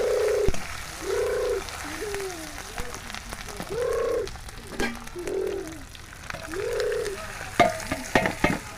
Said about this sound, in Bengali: আর চিংড়িটাকে ভালো করে ভেজে নিচ্ছি।